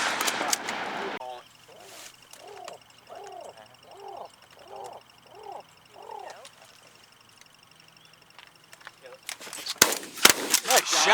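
Shotgun shots fired at pigeons during a Pennsylvania pigeon hunt, a few sharp loud blasts near the end, after a stretch of outdoor ambience with bird calls and a steady insect-like hiss; someone talks briefly at the start.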